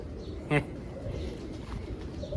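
Pigeons coo softly in a cluttered space, with a sharp bird call standing out briefly near the start.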